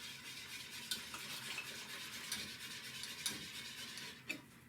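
Cream and milk being whisked into a rice pudding mixture in a bowl, soft continuous swishing and stirring with occasional light clinks of the whisk against the bowl, quiet and close with no talking.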